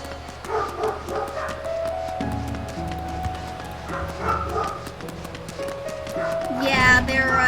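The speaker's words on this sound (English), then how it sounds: "She's kind of trained them to come when she barks and bark at whatever she's barking at." Several dogs bark repeatedly at a distance beside a home, in scattered bursts under ongoing conversation and other background sounds.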